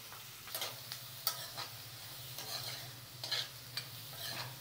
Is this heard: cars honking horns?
no